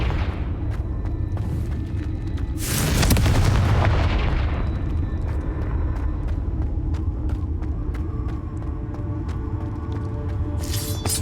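Hogwarts Legacy's Confringo blasting spell erupts on PC in a heavy, sustained explosive roar that swells and rumbles for a couple of seconds over a steady din of game noise, with sharp crackling hits scattered afterward.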